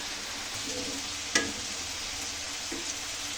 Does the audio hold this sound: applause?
no